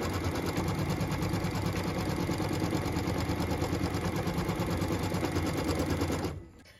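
Embroidery machine stitching centering crosshairs onto stabilizer for a 5x7 hoop, a fast steady mechanical whirring chatter close by that stops abruptly at the end.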